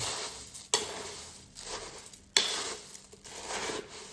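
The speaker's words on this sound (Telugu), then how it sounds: "టమాటో వేసుకున్న తర్వాత టమాటో మిక్స్ చేసుకోవాలి" Tomatoes are stirred into a puffed rice and peanut mixture frying in a pan, with a soft sizzle under repeated scraping strokes and a couple of sharp clinks of the spoon against the pan.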